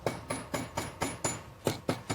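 A hammer taps down a domed oval metal piece against a flat surface, nine sharp ringing strikes at a steady quick rhythm with one short pause, close and clear with no voices.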